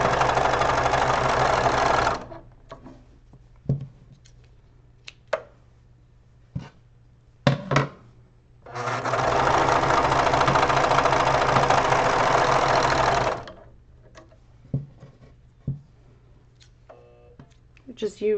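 A serger overlock machine stitches cotton fabric in two long, steady bursts of fast, whirring mechanical hum, with brief clicks and handling noises between runs.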